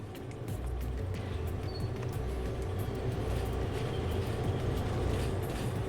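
Train rolling with the handbrake set on a caboose in the Derail Valley train-simulation game; a steady, loud rumble of wheels and rail noise runs throughout, with faint high screeching touches above it.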